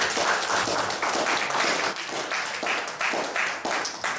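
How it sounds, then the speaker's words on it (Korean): A church congregation at a Korean breakfast prayer meeting claps together, a dense, steady burst of applause filling the room for a few seconds. "박수 한번 하겠습니다"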